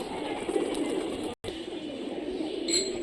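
Soft cooing from Rajshahi Giribaz pigeons runs steadily under a low ambient murmur, broken by a momentary dropout midway, with a slightly brighter call near the end.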